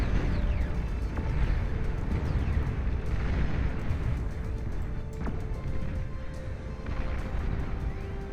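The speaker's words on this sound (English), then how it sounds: "Shiva launching their missiles." Shiva units in Beyond All Reason fire missile launches amid continuous battle noise, a dense roar broken by repeated booms and whooshing bursts, loud and sustained.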